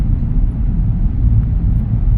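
A motorcycle rides through a road tunnel with traffic, giving a dense, boomy low rumble of engine and road noise that fills the enclosed space steadily and loudly throughout.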